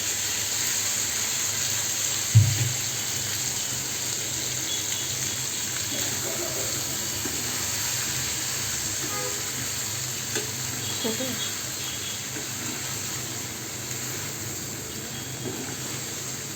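Pre-boiled pasta dropped into a hot wok, sizzling and frying with a steady hiss, a single clunk as it goes in, then faint scraping and stirring sounds under the continuous sizzle.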